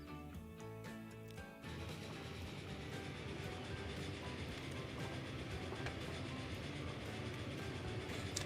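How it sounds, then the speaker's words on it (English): Passenger train running in Transport Fever 2, a steady rolling rumble with rail clatter that swells after a brief change in tone near the start, continuing evenly at moderate distance with no talking. "You are my passenger train."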